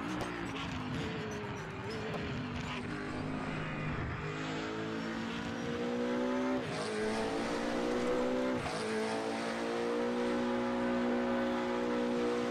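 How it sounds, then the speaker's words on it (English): Heard from outside the car, a race car engine in RaceRoom Racing Experience revs loud and steady, rising in pitch and dropping several times at gear shifts, with no voices over it. "oh, that external sound of the car."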